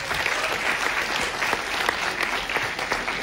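A live audience at a film premiere event in Kraljevo applauding an actor, thick sustained clapping from many hands at an even, loud level.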